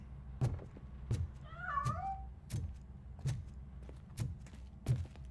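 A cat meows once in the video game RoboCop: Rogue City, a short rising-falling cry, between repeated soft thumping footsteps at a steady pace in a quiet room.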